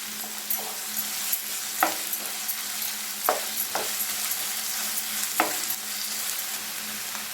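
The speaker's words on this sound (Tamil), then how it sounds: "இப்போ வெங்காயம் நல்லா கிளாஸ் போல் வதங்கி வந்துடுச்சு. இந்த ஸ்டேஜில் இஞ்சி பூண்டு பேஸ்ட்," Onions frying with ginger garlic paste for a quail fry, a steady close sizzle with a low hum beneath and occasional sharp scrapes and taps of a stirring spoon, no talk.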